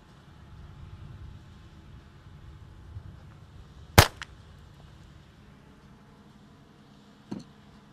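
Two sharp gunshots from a .22 pistol fired at a tiny aspirin target outdoors, one loud crack midway and a fainter second shot near the end, over low background rumble.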